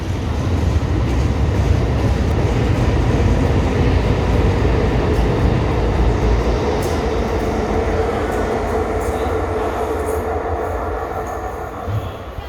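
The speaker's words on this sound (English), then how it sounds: "So this train that is now arriving is going to be my train back to North Shields." A Tyne and Wear Metro train pulls into Cullercoats station, a loud, steady rumble of wheels on rail with faint screeching that eases slightly as the train slows near the end.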